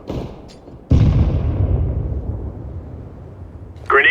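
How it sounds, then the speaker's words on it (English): A grenade goes off in Counter-Strike, a deep booming blast that rumbles and fades over a few seconds after a softer earlier burst, with a brief sharper noise at the very end. "Grenade out."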